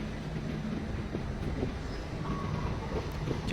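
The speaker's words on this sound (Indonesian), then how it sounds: "aku tahu ini adalah kereta api Singasari" A Singasari passenger train carrying economy and executive coaches passes as a steady, loud rumble of rolling stock with faint squeals and clatter, continuous throughout with no talk.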